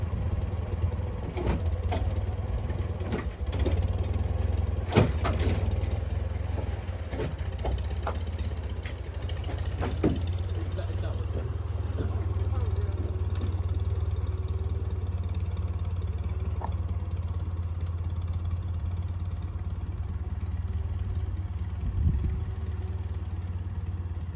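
A loud, steady low mechanical rumble of a running boat motor on a bay in Texas, with clicking and ratcheting sounds scattered over the first half.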